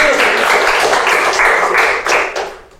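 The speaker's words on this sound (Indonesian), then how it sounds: "Tepuk tangan dulu." Loud, dense clapping from a group fills a couple of seconds, staying close and steady before easing off slightly at the end.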